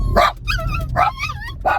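Several dog barks, close and fairly loud, in three bursts spaced across the moment with brief yips between them.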